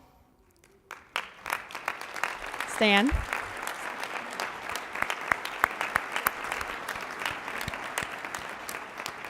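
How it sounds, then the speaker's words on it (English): A large audience claps for elected officials standing up at a civic Black History celebration in Tampa, a loud, sustained burst of applause filling the hall after a brief spoken word. "we'd like to recognize all of you with a round of applause"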